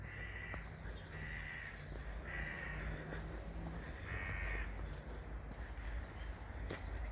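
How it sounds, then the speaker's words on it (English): Crows give about four drawn-out caws at medium distance outdoors on a summer nature walk in England, heard over a constant low rumble of wind and background noise. "Can you hear the birds?"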